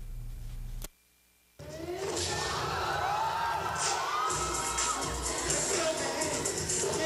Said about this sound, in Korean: 설맞이 행사장에는 수백여 명의 젊은이들의 환호성이 끊이지 않았습니다